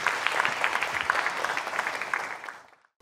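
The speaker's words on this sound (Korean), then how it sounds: "네, 큰 박수 부탁드리겠습니다." Audience applause at a university lecture fills the room with dense, steady clapping at moderate volume, then fades out over the last half second into silence.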